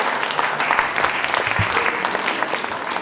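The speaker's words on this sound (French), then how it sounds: "on applaudit le poète." Audience at a poetry slam competition applauding a poet after the scores, a dense, steady patter of many hands filling the room from start to finish, fairly loud with no talk over it.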